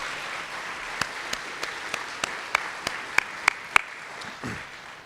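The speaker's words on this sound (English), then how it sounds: "So a round of applause for Women's and Children's." Applause at a hospital leadership day event: a soft, distant wash of clapping from an audience, with a few sharper individual claps standing out near the front as it builds and then fades.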